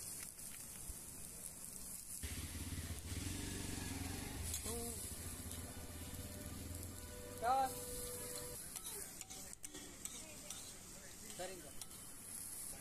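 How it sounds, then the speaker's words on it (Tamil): Onions fry with podi in a pan for onion podi dosa: a soft, steady sizzle with occasional scraping stirs and light clinks, fairly faint and close. "ஓகே, வெங்காயம் நல்லா வதங்கிட்டுருக்கு."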